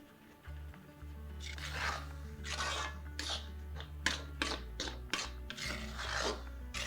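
Finely chopped garlic greens and fresh coriander being mixed by hand for undhiyu, producing repeated rough rubbing and scraping strokes at close range over a low, steady background hum.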